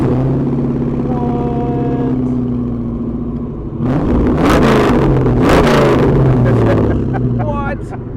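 A 1937 Ford convertible custom engine starts and revs, a loud rough rumble that swells into several throttle blips over a steady idle, with people talking throughout.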